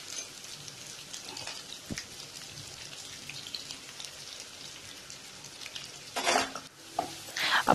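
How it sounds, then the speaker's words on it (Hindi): Onions fry in a pan with a soft, steady sizzle, broken by occasional stirring scrapes that swell louder near the end. "ये देखिए सारा अनियन मैंने डाल दिया है और अब इसमें हम फ्राई कर रहे हैं"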